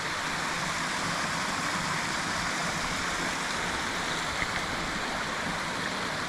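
Toms Creek Falls, a tall multi-stage waterfall, gives a steady, broadband rushing roar of falling water that stays constant and fairly close, with no voices over it.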